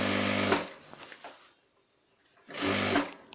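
A sewing machine stitches a shirt seam in two loud, close bursts of steady whirring, separated by a quieter pause of fabric handling.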